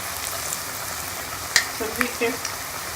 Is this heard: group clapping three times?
no